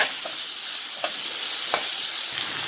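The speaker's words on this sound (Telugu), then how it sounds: "ఇప్పుడు ఆనియన్స్ వేసుకుని బాగా మిక్స్ చేయాలి. బాగా వేయించాలి." Sliced onions sizzle in hot oil in a pan alongside curry leaves, a continuous crackling hiss broken by a few sharp spatula clicks as they are stirred, with no voices.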